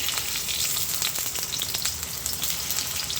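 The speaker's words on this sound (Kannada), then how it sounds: "ನೋಡಿ ಫ್ರೆಂಡ್ಸ್, ಈಗ ಎಣ್ಣೆ ಸ್ವಲ್ಪ ಕಾಯ್ದಿದೆ. ಸೊ ಎಲ್ಲ ಟೊಮೊಟೊ ಹಣ್ಣನ್ನ ಈ ಥರ ಉಲ್ಟಾ ಮಾಡಿ ಹಾಕೊಳ್ಳಿ" Tomatoes, set face down, frying in hot oil make a continuous dense crackling sizzle with scattered sharp pops, close and fairly loud throughout.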